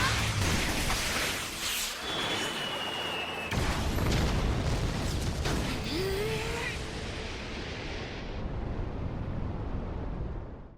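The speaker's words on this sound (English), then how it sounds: "The explosions stop and the dust begins to settle." Explosions from an anime fight scene roll on as a continuous dense rumble and roar, with bursts and whooshing debris, loud throughout before slowly thinning out.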